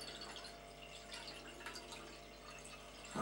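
Homemade apple cider, brewed from backyard apples, poured from a bottle, giving a soft continuous liquid trickle with faint splashy detail, quiet and close, with no talking.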